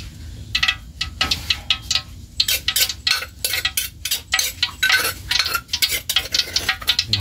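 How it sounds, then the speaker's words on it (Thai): Chili and garlic stir-fried in oil in a pan for a Thai mussel dish, with a steady sizzle under rapid, repeated scraping and clinking of a spatula against the metal wok, close and busy throughout. "มันจะเป็นพริกกับกระเทียมครับ พริกกับกระเทียมติดตามแล้วเนาะเจียวผัดใส่น้ำมัน"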